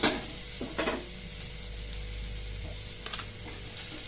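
Ridge gourd peel sautéing in a pan, a steady close sizzle with a few spatula scrapes and stirring knocks near the start and again later, no talk.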